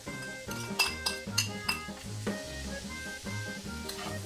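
A spatula scrapes and clinks against a pan as ground beef, onions and potatoes are tossed together in a stir-fry, with a soft sizzle underneath and an irregular rhythm of metallic taps, fairly quiet and close, no talking.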